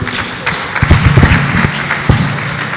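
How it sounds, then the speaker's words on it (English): An audience at a talk gives a short burst of applause for the speakers. The clapping is loud and uneven over about three seconds, with faint voices under it. "Please, a round of applause for them."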